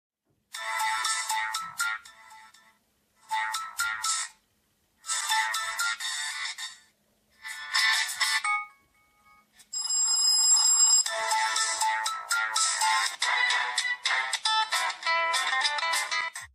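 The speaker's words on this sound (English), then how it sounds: "Inside sound we have the volume for the ringtone" A Lemfo LEM5 Android smartwatch plays a series of short electronic ringtone melodies, bright repeated chiming bursts separated by brief pauses, ending in a longer continuous tune, close and clear with no speech.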